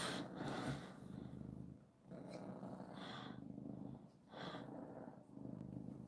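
A pet cat purrs close to the microphone in a steady, low rumbling drone with short breaks between breaths, quiet and alone with no talking.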